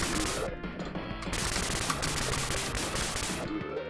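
A madman sprays gunfire in a mall in the 1992 Tecmo game Riot: rapid, continuous bursts of loud game gunshots with a short pause in the middle.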